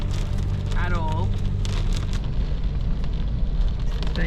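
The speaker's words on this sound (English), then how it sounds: "now it's hailing" Hail pours down in a sudden, unforecast storm on the NSW South Coast, a dense steady patter and rattle on surfaces all the way through, with voices and a brief whistle-like tone in the middle.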